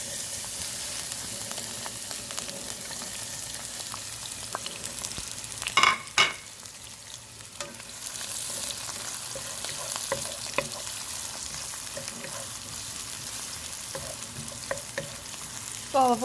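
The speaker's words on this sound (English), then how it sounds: "some olive oil to my pan. And it's already hot. So start by adding my onion." Onion frying in hot olive oil in a pan for mushroom quesadillas, giving a continuous dense sizzle close up, with a few sharper clatters of a utensil near the middle, no voices.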